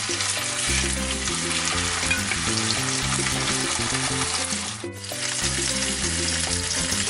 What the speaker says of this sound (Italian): Andiamo a prendere i nostri filetti di salmone e li andiamo a depositare nel burro e facciamo rosolare.